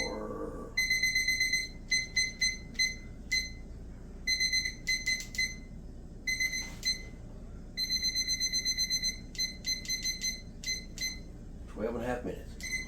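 Kitchen oven timer being set, giving repeated short high electronic beeps in quick bursts and pauses over a steady background hum, with a brief bit of talking near the start and end.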